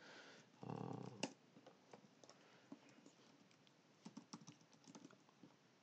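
Fast clicking keystrokes on a computer keyboard, irregular taps in quick bursts, close and fairly quiet, with a brief rustle near the start.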